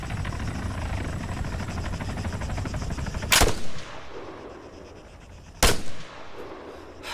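Gunfire in the video game Arma 3, two sharp loud shots several seconds apart over a steady helicopter rotor thrum that fades after the first shot.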